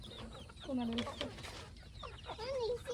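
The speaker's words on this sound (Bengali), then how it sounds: "তো অনেকগুলো মুরগি।" Chickens on a village farm give a few close, wavering clucks among steady background murmur, with soft human voices nearby.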